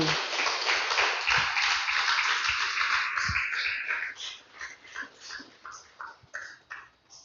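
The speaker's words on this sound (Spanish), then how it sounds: "Dele fuerte el aplauso al Señor." A church congregation at a Spanish-language service applauds: dense, loud clapping for about four seconds that then thins into scattered, uneven claps before dying away.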